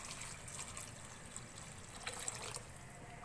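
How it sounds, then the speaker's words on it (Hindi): Three cups of water pour into a pot of vegetable pulao, a soft, continuous trickle and splash with a few brighter drips, fairly quiet and uninterrupted. "3 कप पानी ऐड कर रही हूँ इसके अंदर"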